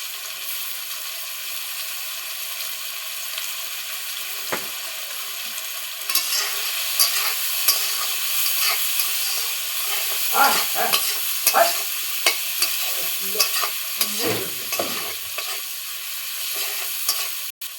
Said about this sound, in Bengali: ভাজা ভাজা হোক তারপর মশলাটা দিয়ে দেব